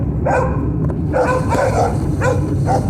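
Several dogs bark and yip in short, overlapping bursts from a distance along a road, repeating a few times over a steady low rumble.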